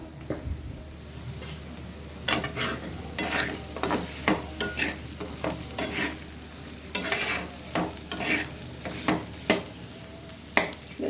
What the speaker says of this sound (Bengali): 2-3 মিনিটের মতো ওটাকে একটু ফ্রাই করতে দেব